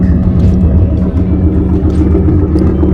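A 2002 Ford truck engine idles at a steady low rumble, close and continuous for a few seconds with no voices.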